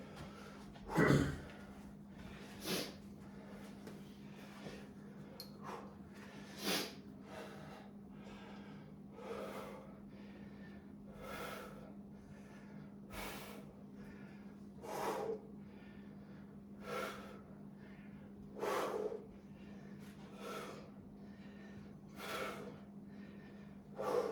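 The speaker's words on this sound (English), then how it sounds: "he's exhaling as he pulls up" A man exhales in repeated breathy bursts while doing pull-ups in a total-body workout, with roughly ten rhythmic puffs spaced a couple of seconds apart over a steady low hum, close and moderately loud.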